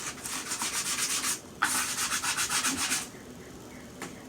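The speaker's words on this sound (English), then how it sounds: "The great advantage of having all the ribs open is that you can sand them and get a nice clean surface" Steady rhythmic sanding on the wooden ribs of a boat hull under construction, with repeated close, loud back-and-forth strokes, a brief pause, a second run of strokes, then quiet.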